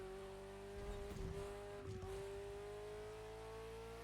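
A Ferrari Enzo engine holds a steady high-pitched drone as the car runs hard at speed, with brief rises in intensity and a faint tire scrub midway, loud and continuous throughout.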